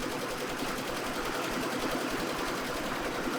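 A computerized embroidery machine stitches lettering in a factory, a steady, fast mechanical whir with a dense, even rhythm, close and continuous.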